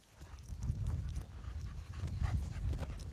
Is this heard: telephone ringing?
no